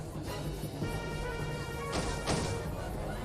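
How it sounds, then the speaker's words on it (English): A stained glass window shatters in the Umineko When They Cry visual novel, a loud, sustained crash of breaking glass with two sharper impacts near the end over a constant background wash. "Shockwave made the stained glass window shatter, and colourful glass shards poured down everywhere."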